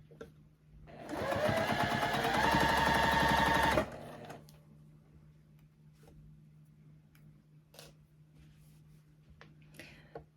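A sewing machine quilts fabric for a zipper pouch in one fast, steady, rattling run of about three seconds, then stops, leaving a low hum and scattered faint clicks.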